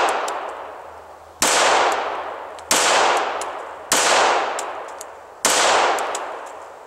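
Handgun shots fired slowly and evenly at a shooting range, four loud sharp reports each followed by a long decaying ring, spaced roughly a second or more apart.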